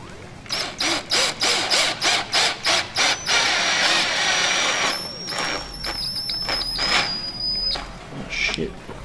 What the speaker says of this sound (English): So my drill is dying on me.